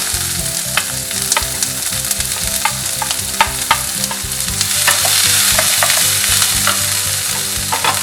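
A large chopped onion fries and sizzles in hot oil, with frequent stirring scrapes and clicks of the spoon against the pan, a steady close sizzle that swells louder midway.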